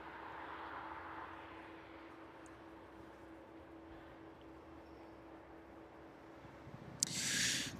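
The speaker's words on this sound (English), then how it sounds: "quickly making its way up onto its final approach is that 767 in from Bahrain" A Boeing 767 airliner in from Bahrain on final approach at an airport at night rumbles as a steady, distant, faint engine drone, with a brief louder hiss near the end.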